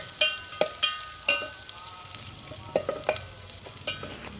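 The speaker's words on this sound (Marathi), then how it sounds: "आता हा कांदासुद्धा छान असा ब्राऊन रंग येईपर्यंत तळून घ्यायचा आहे।" Onion and green chillies frying in oil in a pan over a village wood-fired stove, with soft sizzling under a run of sharp scraping stirs and clinks of a ladle, fairly close and with no talk.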